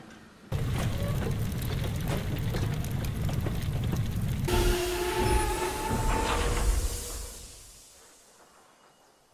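A steam train rumbles and rattles loudly, then brakes hiss and wheels squeal as it slows to a stop, the noise fading away to near quiet at the end.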